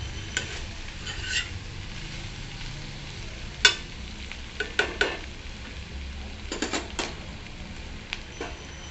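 Val papdi beans tossed with homemade onion-garlic masala sizzle gently in a pan while a spoon scrapes and taps in scattered, sharp strokes, several bunched together, with no speech.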